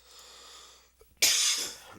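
A person under the weather gives a single sharp, close cough that bursts out after a soft breath, with no talking around it.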